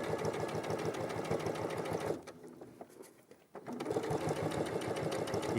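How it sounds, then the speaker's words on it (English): A sewing machine top stitching down quilt edges runs in a steady, fast mechanical chatter, pauses briefly to near quiet, then resumes at the same close, even pace. "I find this one of the most satisfying jobs, top stitching these edges down."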